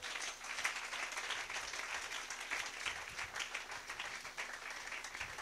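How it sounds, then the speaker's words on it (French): A church congregation applauds to acclaim the Lord during a Christian exhortation service, a steady, fairly faint crowd clapping heard from a distance without speech. "Donnez-moi l'acclamation au Seigneur."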